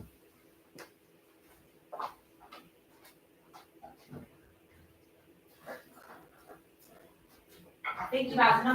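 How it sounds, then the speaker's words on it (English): A dog at home whimpers and gives soft yips in scattered bursts, faint and close in a quiet room, with a louder burst near the end. "The dog wants something."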